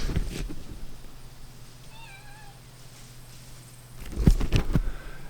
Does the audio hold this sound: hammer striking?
no